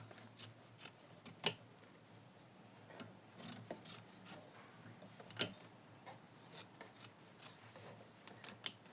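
Scattered sharp snips and rasping cuts from scissors trimming autumn leaves, irregular and close, over a soft rustling background with no talking.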